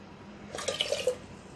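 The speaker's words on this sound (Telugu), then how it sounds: "వాటర్తో పాటు ఇంకొక కప్పు వాటర్ని కూడా వేసుకోవాలి." Water pours briefly into a pot of soaked foxtail millet, a short close splash and gurgle of under a second that rises from quiet and fades out, with no talk.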